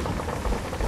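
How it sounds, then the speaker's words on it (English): Dense, steady rain patter in the pirate game Sea of Thieves, a constant broadband hiss with soft low rumbling, close and even, no voices. "Oh, it's raining."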